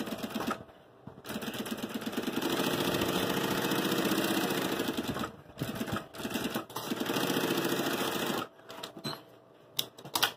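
A sewing machine runs in two long bursts of rapid, steady stitching on a fabric bag with a flap, separated by short pauses and handling noises, close up and fairly loud.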